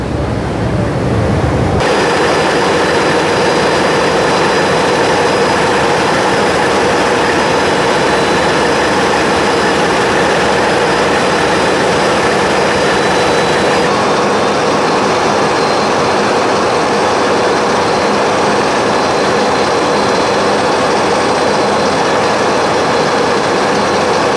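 Engine of the M Khan 7 passenger launch underway toward Barishal: a loud, steady, continuous mechanical drone with a broad rushing hum, unbroken for the whole stretch after a brief quieter start.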